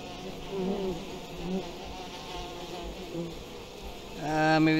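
Insect buzzing from bees in the video game We Happy Few drones steadily throughout, with harmonic whine rising louder and nearer near the end, under faint background sounds.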